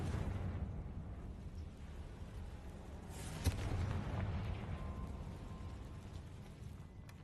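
Confringo fire spell explosions in Hogwarts Legacy, a rumbling low blast environment with one sharp pop midway amid continuous dense roar, no speech.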